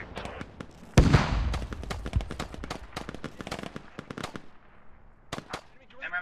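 Frag grenade detonating in the military shooter Squad: one sharp, loud blast with a rumbling tail, followed by scattered distant gunfire and squad members talking over the battle.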